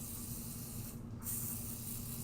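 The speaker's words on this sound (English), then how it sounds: "I am going to use some pixie spray to keep it in place" Pixie Spray fixative sprayed from an aerosol can onto a paper craft, a steady close hiss lasting a couple of seconds with a brief gap in the middle, heard alone.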